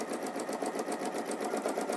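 Domestic sewing machine stitching slowly with metallic thread on fabric, a quiet, even rhythmic whirring and needle ticking heard close up on its own.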